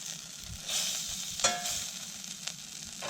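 Butter sizzles quietly as it melts in a pan for Mornay sauce, a faint continuous crackle with a few sharper pops and light scrapes, no voices present.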